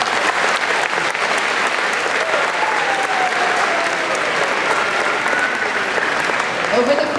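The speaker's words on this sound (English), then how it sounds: "yeah, you can go ahead and clap." Applause from a school assembly crowd in a gym or auditorium recognizing the North Star Marching Band, a dense sustained roar of clapping with some cheering, loud and steady throughout.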